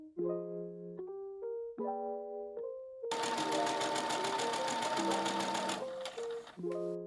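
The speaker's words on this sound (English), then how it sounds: "place skirt A and the BC pieces with their right sides facing each other, pin at the notches, and sew" A sewing machine stitches a seam joining skirt pieces for a kids' summer top, its rapid mechanical whirr running steadily for about three seconds, close and loud, between quieter stretches.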